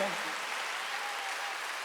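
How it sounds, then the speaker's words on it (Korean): Continuous applause from a large church congregation at a religious meeting, a dense even wash of clapping at steady volume. "이번 집회에 구원 얻을 백성이 많다고 믿는 사람만 박수하세요"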